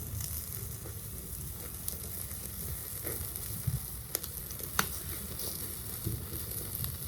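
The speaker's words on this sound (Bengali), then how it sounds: "এই যে বাটার পড়ছে আর আগুন মনে হয় একটু বেশি জ্বলছে" Butter dripping onto chicken cooking over an open fire while making tandoori on a cold winter night outdoors, giving a steady close sizzle with occasional sharp crackles and pops, no talking.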